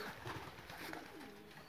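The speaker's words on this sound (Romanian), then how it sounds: "Da, aici sunt porumbei de la matcă." Pigeons in a loft give soft, low coos that sit faintly in the background amid a quiet ambient wash, with no talk over them.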